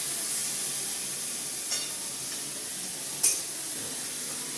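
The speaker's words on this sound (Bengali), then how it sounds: "এখন এখানে রান্না করছে" Boneless mutton cooking in a pan, a steady broadband sizzle and hiss with two faint brief clicks, even and close, with no voices.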